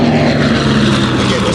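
A British Hawker radial-engine propeller aircraft roars past at an airshow, a loud, close, sustained engine drone with a steady throbbing hum.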